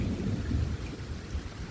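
A deep rumble of thunder rolls beneath steady, dense rainfall, with no voices present.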